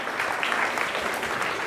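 Audience applause at a school flag ceremony and science exhibition, a dense, steady burst of clapping from a crowd, brief and fairly loud.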